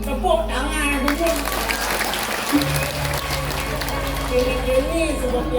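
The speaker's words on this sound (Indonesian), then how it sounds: "Tepuk tangan dulu." An audience claps at a Balinese drama gong performance, a busy patter of hands mixed with a voice and tonal sounds from the stage.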